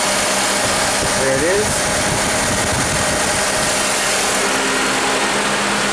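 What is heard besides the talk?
Honda engine idling with AC compressor clutch engaged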